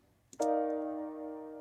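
A synth chord from a Nexus patch for a chill pop beat enters after a brief click and sustains as a smooth, steady harmonic pad, clean and alone.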